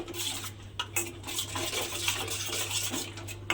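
Spices and Kashmiri chili powder being mixed in a bowl for a rohu fish recipe, giving soft continuous scraping and clinking of a utensil against the dish, close by and steady, with a low hum underneath.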